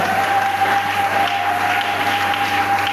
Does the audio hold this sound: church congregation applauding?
yes